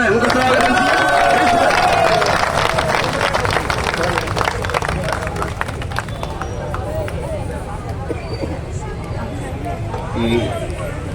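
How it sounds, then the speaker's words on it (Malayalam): An audience at a meeting bursts into warm applause to welcome a guest speaker, loud dense clapping that slowly thins and fades over several seconds, with crowd murmur underneath. "അദ്ദേഹത്തെ ഏറ്റവും സ്നേഹത്തോടെ നല്ലൊരു കയ്യടിയോടെയാണ് നമുക്ക് സ്വാഗതം ചെയ്യാം"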